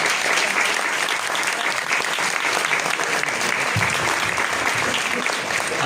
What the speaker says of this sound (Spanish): José Luis Pérez Hernández Huicho, a quien pido un muy fuerte aplauso